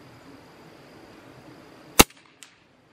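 A single sharp, quiet crack from a CZ 457 .22LR rifle firing CB22 Long ammunition, followed by faint small ticks and one soft distant impact a moment later.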